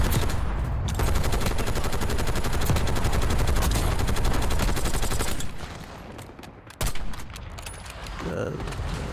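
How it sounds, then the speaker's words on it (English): Sustained rapid automatic gunfire in a video game firefight, loud and continuous for several seconds before breaking off into a few scattered shots, with faint voices under it. "What are those shots?"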